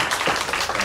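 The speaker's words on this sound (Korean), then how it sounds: "우리 환영하는 박수 하겠습니다." A brief, dense burst of welcoming applause from a congregation during a Parents' Sunday morning service at a Korean church, steady and fairly close.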